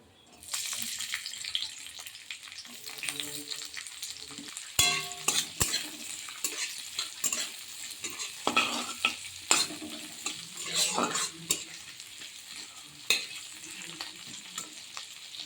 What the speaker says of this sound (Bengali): তেলটা গরম হয়ে গেছে এবার এর মধ্যে দিয়ে দেবো কেটে রাখা স্লাইস করে খুলে ফুলে বড় বড় সাইজের করে কেটে রাখা পেঁয়াজগুলো